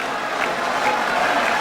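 Crowd applause at a political rally in Kinshasa, a dense steady wash of clapping with some cheering, loud and continuous across the whole moment.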